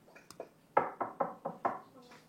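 Knuckles rap on a hard surface as a demonstration during an Indonesian-language lesson, about six firm knocks in an even sequence, close and clear, after a few lighter taps.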